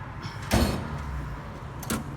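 Two quick metal drawers of a Snap-on toolbox slide and clunk, a louder stroke followed by a fainter one a second later, close by in a quiet garage.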